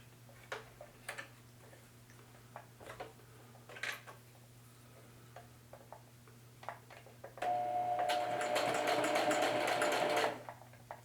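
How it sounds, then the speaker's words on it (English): A sewing machine bar tacks across a pocket on a cut pant leg: faint scattered clicks and handling, then a loud steady burst of rapid stitching for about three seconds near the end. "I'm going to bar tack over to about here, like that far, like about 1/4 of an inch."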